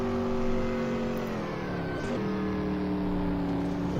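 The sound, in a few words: race car engine driving on the out lap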